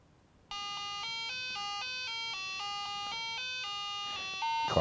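A simple beeping chiptune plays from an Apple IIc computer's built-in speaker while The Oregon Trail loads: a steady run of bright square-wave notes stepping between pitches over a faint hiss, ending in a short burst of noise.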